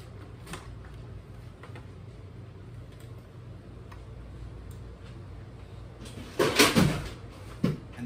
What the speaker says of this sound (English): that was the sound of garbage falling in the kitchen